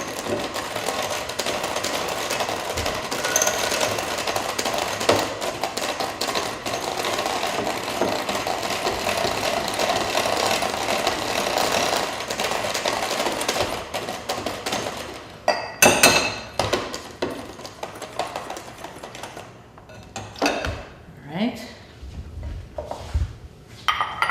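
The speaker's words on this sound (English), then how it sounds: "I'm just gonna whisk those together here real quick." Unsweetened baking cocoa being whisked with dry ingredients in a bowl, heard as a fast, continuous scraping whir for about fifteen seconds, then a few louder clatters and knocks of the bowl and utensils.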